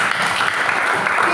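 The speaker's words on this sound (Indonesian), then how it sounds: "Berikan tepuk tangan buat Allah." Church congregation applauding, a steady broadband wash of clapping holding at even loudness throughout, with a voice faintly mixed in.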